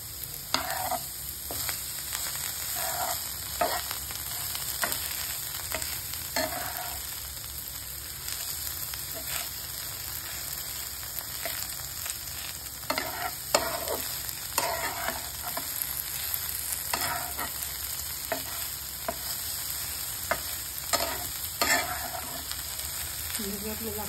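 Okra frying in a pan with steady sizzling while a spoon stirs and scrapes, giving repeated soft clatters over the low background sizzle.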